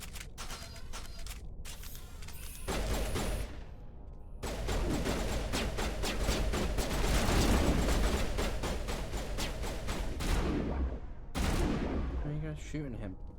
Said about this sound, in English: Why are you guys shooting him? Stop shooting him.